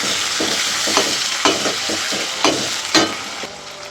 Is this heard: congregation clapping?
no